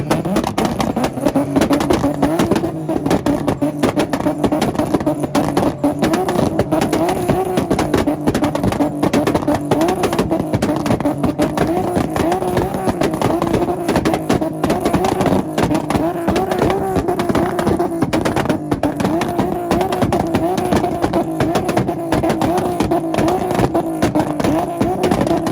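Cars including a VW, VQ-engined car, 300ZX and Integra rev their engines in a two-step rev battle at an outdoor car event, a continuous loud crackling roar with dense popping bursts and crowd noise.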